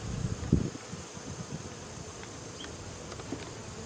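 Honeybees buzz around an open hive during an autumn inspection, a dense, steady droning hum with a few nearer thuds and rustles from handling the frames.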